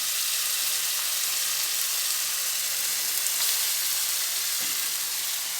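Tomato and ginger-garlic paste hit a hot pan for mushroom biryani, giving a steady, close, even sizzle and crackle of frying with no talking.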